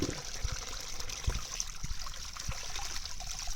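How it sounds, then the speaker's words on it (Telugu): Water trickles and splashes softly while soil is washed off freshly dug nagul tubers, a continuous low running-water sound with small knocks and dribbles, close but faint. "ఇలాగ మట్టి అనేది అంతా శుభ్రంగా కడిగేసి"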